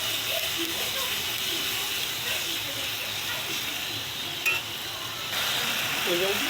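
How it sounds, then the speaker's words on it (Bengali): Masala with a little added water being sautéed in a pan while turmeric and salt cook in, giving a steady close hiss and sizzle with faint stirring throughout. "জল দিয়ে একটু কষাচ্ছি"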